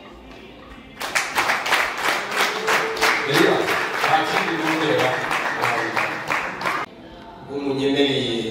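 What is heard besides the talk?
audience applause at a wedding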